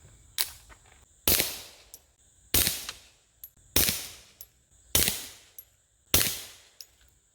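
A Ruger Mark IV 22/45 pistol fires Aguila 40 grain lead round nose rounds, six sharp separate shots spaced about a second apart, each with a short decaying ring, with faint clicks between.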